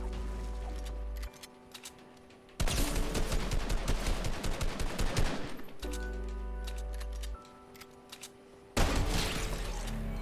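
Sharp, loud sniper rifle cracks in a shooter video game, a few isolated shots then a dense burst of rapid fire, over a steady low engine-like drone.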